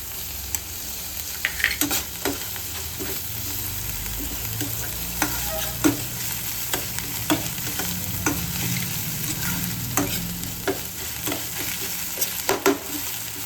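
Tomatoes go into a hot pan for butter pav bhaji, sizzling and frying steadily while a spoon scrapes and stirs with repeated clinks against the pan, close and continuous.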